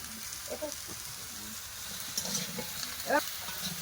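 Spinach and other greens with potato, pumpkin, turmeric and chilli stirred in a pan, a soft steady sizzle with brief scraping clatters from a utensil, close and moderate in level.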